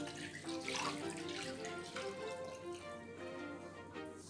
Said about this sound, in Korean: 식혀준 육수를 넣어주겠습니다